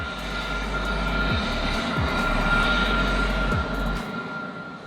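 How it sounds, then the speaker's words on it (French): SpaceX Starship Ship 28 during a turbopump spin prime test: a loud, steady low roar with a few sharp thumps, heard from a distance and fading slightly near the end. "Au programme, un test des turbopompes du Ship 28,"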